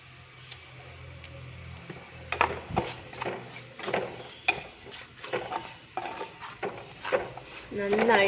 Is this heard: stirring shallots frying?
yes